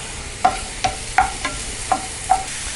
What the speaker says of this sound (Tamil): மஷ்ரூம் மட்டும் என்னென்னா நம்ம ஒரு 2 மினிட்ஸ் வந்து சிம்மில் வச்சுட்டு ஃப்ரை பண்ணணும்